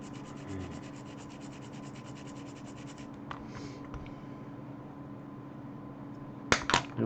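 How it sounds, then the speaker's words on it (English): Small model parts for a Copperhead build being hand-sanded, soft steady scratchy rubbing strokes at close range and low level, followed near the end by a couple of sharper clicks and knocks. "me sanding little tiny parts"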